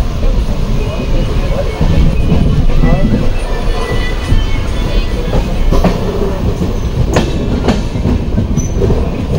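Loud, close rumble and clatter of a moving passenger train, wheels clacking and occasionally squealing, with voices murmuring under the noise.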